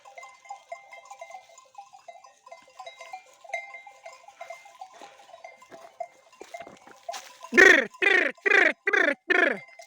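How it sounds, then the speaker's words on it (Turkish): Quiet rustling and faint bell-like tinkling, then a run of five loud, close sheep bleats in quick succession, in a village in spring. "Yukarıda koyunlar da var. Onlar da geliyor."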